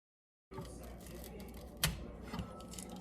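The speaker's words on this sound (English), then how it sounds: "so now I'm just gonna go ahead and cut it." Trader Joe's pizza being sliced, with a close series of crisp cutting crunches and clicks after a brief silent start, one sharper crackle midway, no talk.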